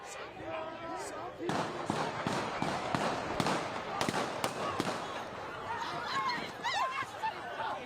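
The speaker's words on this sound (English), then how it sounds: "MetroSafe now confirms those were gunshots" Several sharp cracks of gunfire go off in an irregular burst, distant, amid chatter and shouting voices in a noisy outdoor scene near 6th and Jefferson.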